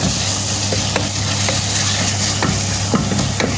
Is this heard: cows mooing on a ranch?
no